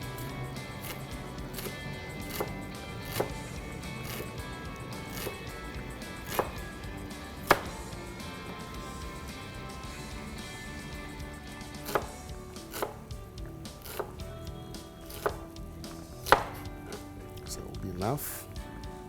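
A knife chops potatoes on a board in a kitchen, with scattered crisp knocks at an irregular pace under a speaking voice.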